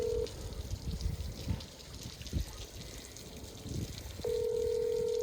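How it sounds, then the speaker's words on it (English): An outgoing phone call rings out, a steady electronic ring tone sounding briefly at the start and again near the end, separated by a gap of quiet rustling and muffled background noise. "Let's see if Derek picks up the phone"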